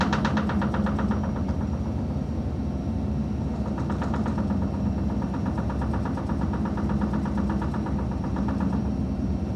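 The Fairplay 95 tugboat's engine runs under load while assisting a 400 m container ship, a loud, continuous diesel drone with a knocking pulse that holds steady throughout, with no voices.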